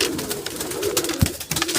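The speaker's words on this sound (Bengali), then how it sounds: "আর এই দেখুন আমার কবুতরগুলা" Pigeons coo in a small hobby loft where birds sit with chicks and eggs, giving soft repeated throaty calls close by that overlap in quick bursts.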